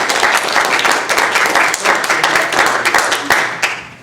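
Borough council meeting attendees applaud to thank a colleague, a brisk roomful of hand claps with distinct individual slaps, close and loud, sustained for several seconds before easing.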